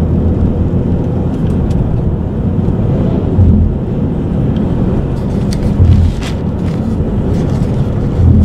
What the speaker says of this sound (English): Sound healthy from that motorbike